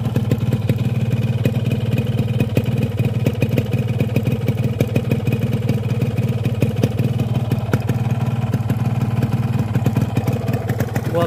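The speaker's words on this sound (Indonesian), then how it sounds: "ini adalah sampel asapnya ketika mesin baru banget dinyalain" Freshly started two-stroke motorcycle running on Elf Moto 2 two-stroke oil, idling loud and close with a rapid, even, rattly putter that holds steady with no revs.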